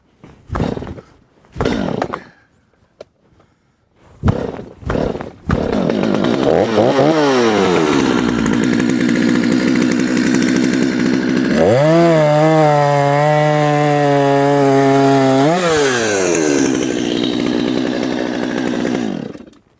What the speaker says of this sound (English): Come on, little saw. Work for us.